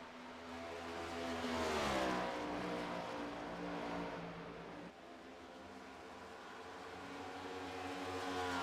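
Stock cars in Darlington practice from a racing video game, engines whining and rising in pitch as a car accelerates past, a steady drone of other cars behind, no talking.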